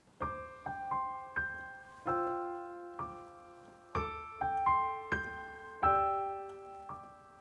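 Piano chords played in the tender, delicate high range, struck one after another in a gentle, unhurried rhythm, each ringing out and decaying softly, quiet and close with no talking.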